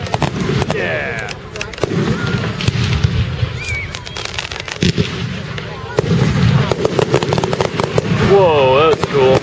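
Repeated booming and crackling fireworks bursts at a 4th of July parade in Hartford, Wisconsin, with sharp reports and fizzing crackle, loud and close, while people talk and a voice rises toward the end.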